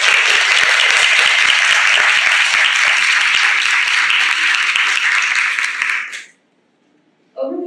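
Loud, sustained applause from an award ceremony audience honoring Naveen Kishore, steady dense clapping for about six seconds before it cuts off, then brief silence and a faint return of sound.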